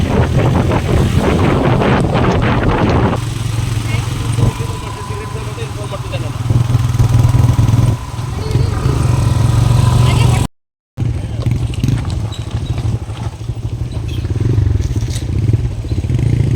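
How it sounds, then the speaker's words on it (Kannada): A rented motorbike ridden along the road toward a resort near Dandeli, engine droning steadily under heavy wind buffeting on the microphone, with a brief cut to silence partway through and a voice talking over parts. "ಬೈಕ್ನ ರೆಂಟಿಗೆ ತೊಗೊಂಡು ರೆಸಾರ್ಟ್ ಕಡೆ ಹೊರಟ್ವಿ ನೋಡಿ"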